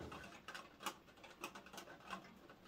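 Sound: rain on the window

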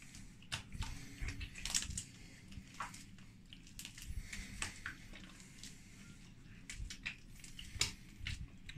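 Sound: wet sourdough focaccia dough squeezed and kneaded by hand

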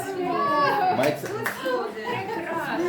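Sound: applause

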